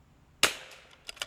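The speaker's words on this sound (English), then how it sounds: "Had to speed shoot that to keep it in the wind." A single sharp rimfire rifle shot cracks close by on a range, followed by faint distant echoes and a couple of smaller pops.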